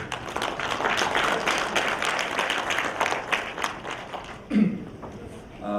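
A crowd claps steadily in sustained applause that fades slightly toward the end, with a brief low thump near the close.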